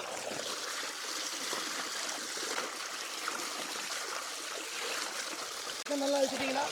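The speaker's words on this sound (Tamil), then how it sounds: "சிக்கனை நல்லா கழுவி எடுத்துக்கலாம்" Running water splashes steadily over raw chicken being washed outdoors for a village-style tandoori, a continuous trickling stream that swells briefly louder near the end.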